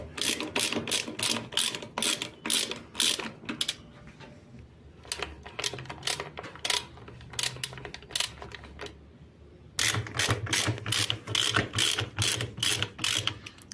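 Rapid bursts of ratchet clicking as counterweights are unbolted from a washing machine, repeated in several close, loud runs separated by short pauses.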